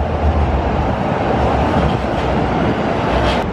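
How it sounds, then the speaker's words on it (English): A train running on rail tracks in Tokyo, a loud, dense rumble heard from close by, rolling steadily from start to finish with a faint squeal near the end. "I really like the sound of the rail."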